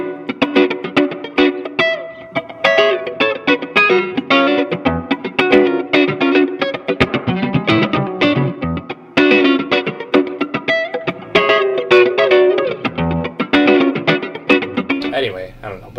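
Guitar played through a Walrus Audio Fathom reverb pedal on a vibey setting, a steady stream of effected, distorted chords and notes with a wash of reverb tails, loud and continuous across the whole passage.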